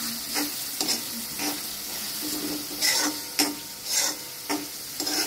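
Eggs sizzle in hot oil alongside red chilli and asafoetida in a home kitchen, a soft steady frying hiss broken by repeated sharp scrapes of stirring, fairly quiet and close, with no speech.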